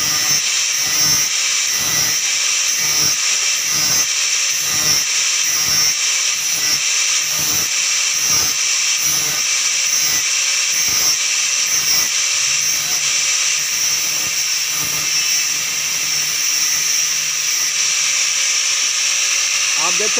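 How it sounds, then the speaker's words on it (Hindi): A grinder sharpens a soldered wire tip to a point for a homemade car test light, a loud continuous high whine pulsing in a regular rhythm as the tip is pressed and lifted. "इस तरह ग्राइंडर के थ्रू इसको पॉइंट करना है पतला"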